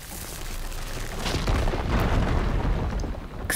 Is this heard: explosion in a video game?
yes